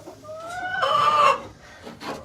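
A chicken at a cabin gives a short, close cluck-and-crow call rising to a loud burst, then a softer trailing note.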